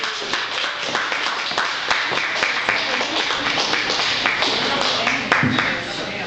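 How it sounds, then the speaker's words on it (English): An audience at a poetry reading at Chicago's Mercury Cafe claps and applauds steadily throughout, with a voice briefly heard over the clapping near the end. "Let's hear it for Janet."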